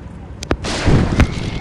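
Gunshots in a mobile 3D shooter game: two short sharp cracks close together, then a louder booming blast with a rumbling tail, loud and near, with no one talking.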